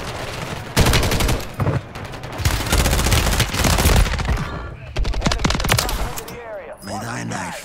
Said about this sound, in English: Shoot your gun, Andre.